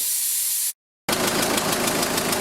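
A 2005 Renault Laguna 1.9 dCi 130 hp diesel engine starts: a soft hiss, a moment of silence, then the engine bursts into a loud, steady, close clattering run with a faint regular pulse.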